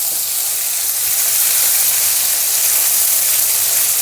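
Ginger garlic paste fries in a pan with a loud, steady, bright sizzle and hiss that runs unbroken throughout, close up and with no talk.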